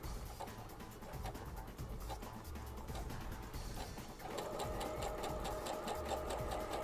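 A sewing machine fitted with a five-groove pintuck foot stitches corded pintucks, its needle running in a fast steady rhythm that grows slightly louder and busier partway through, close and without talk.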